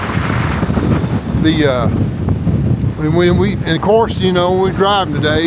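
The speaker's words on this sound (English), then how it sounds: "it's still blowing probably 30 miles an hour out here" Strong wind of about 30 mph buffets the microphone outdoors at Williams Creek, Montana, a loud rumbling roar under someone talking nearby.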